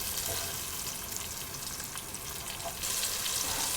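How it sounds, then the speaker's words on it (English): Beef slices brown in a pan with a steady crackling sizzle at low volume, the hiss swelling slightly near the end as the meat is stirred. "I'll stir that around, and I'll turn it and turn it over and toss it around until it's browned all over"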